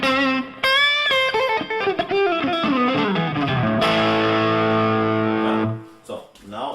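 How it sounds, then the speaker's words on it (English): Electric guitar run through a Tube Screamer overdrive pedal in mono, a loud, saturated overdriven tone with melodic single-note lines that slide downward, then a long sustained ringing chord that cuts off abruptly. "Now I turned on the tube screamer."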